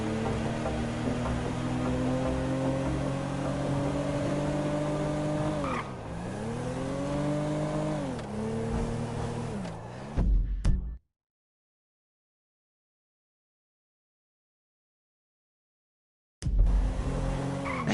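Car engines rev hard and tires squeal through a chase in GTA V, the engine note climbing and dipping over a sustained roar before it cuts to silence, then a loud burst returns near the end.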